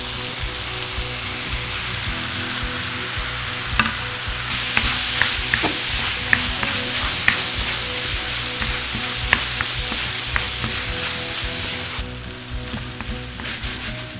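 Long-legged octopus sizzles loudly in a hot pan over high heat in a spicy stir-fry, a dense hiss like heavy rain with scattered clicks and scrapes of stirring, with no talking.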